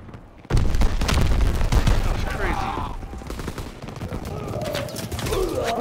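Gunfire rattles through a Call of Duty WWII match on a sandy battlefield, a loud dense stream of shots beginning abruptly and continuing throughout, with bird-like whistles and other battle sounds layered behind.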